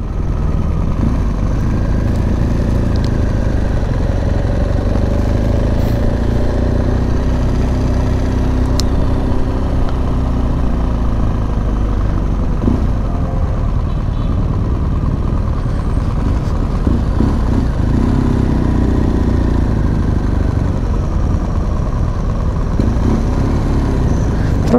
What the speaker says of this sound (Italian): Anzi no, tutte le moto vanno su